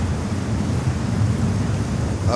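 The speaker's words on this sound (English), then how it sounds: "the wind gusts are extreme" Strong gusting wind at JFK airport buffets the microphone, a loud, continuous low roar that swells and eases in gusts without any speech.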